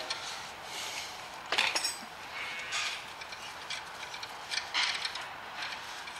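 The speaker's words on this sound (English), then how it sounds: "I'm not doing a new thread, I'm just cutting the existing thread that was there just in case." Tap recutting the existing bolt thread in a Citroen C5 rear brake caliper, heard as faint metallic ratcheting and grinding clicks in short bursts, with a sharper scrape partway through and no talking.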